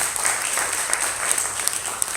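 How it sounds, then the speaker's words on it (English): Applause from an audience at a public forum on education, a steady, moderately loud patter of many hands clapping together, with a few sharper individual claps standing out. "Give them a big round of applause."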